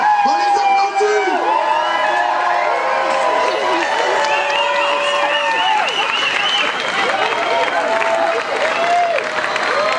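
Crowd at an outdoor Saint-Jean festival evening in Villeray, clapping and cheering steadily and loudly for the whole stretch, with whoops and voices mixed into a dense, continuous wash of applause.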